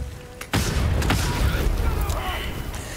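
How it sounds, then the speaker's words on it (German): A grenade blast in the Baldur's Gate 3 video game goes off as a sudden heavy boom with a rumbling tail, with a sharper crack just after, under a gamer's voice talking. "Warum explodieren da 2 auf einmal?"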